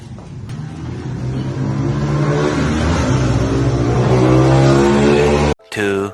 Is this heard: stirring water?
no